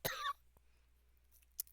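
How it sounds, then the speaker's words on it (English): A single sharp, close cough bursts out at the start, followed by near silence and a faint short throat sound near the end. "I'm not winning the war with the cough."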